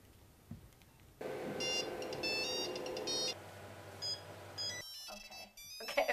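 A bright electronic phone ringtone melody plays loud and steady for several seconds, beeping and chiming in a repeating pattern with a brief pause near the end.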